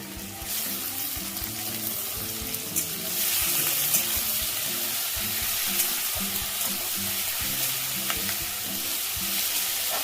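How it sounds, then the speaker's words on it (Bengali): Shrimp fry in hot oil with chopped tomato, a steady loud sizzle running throughout with occasional stirring scrapes in a close, busy kitchen. "এই তেলের মধ্যেই আমি চিংড়ি মাছটা সবটা দিয়ে দেবো।"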